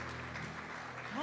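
A church congregation claps hands during prayer, a dense patter of many hands under a speaking voice, moderate and continuous.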